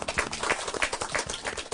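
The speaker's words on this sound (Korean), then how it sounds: "여러분 다 같이 박수로." Dense, steady applause from a lecture audience welcoming a health talk speaker, many hands clapping together at close range with no voices over it.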